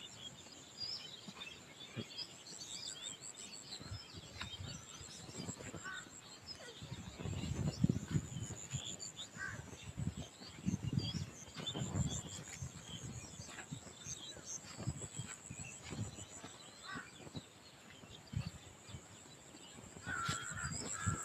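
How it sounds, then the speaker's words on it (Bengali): Birds call in a foggy early-morning countryside, faint and distant, with occasional crow caws and scattered chirps over a soft outdoor hush. "চুপ থাকলে পাখির কিচিরমিচির আওয়াজ শোনা যেতে পারে।"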